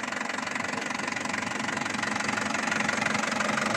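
An Isuzu D-Max pickup's original diesel engine idles with a steady, rough knocking rumble, constant and close, with no voices.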